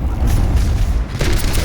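Dr. Junkenstein's bombs exploding against a castle in the Overwatch video game: deep, loud, rumbling booms that run continuously, with a fresh burst of crackling blast near the end.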